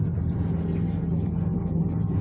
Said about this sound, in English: Quite a noisy car we drive from here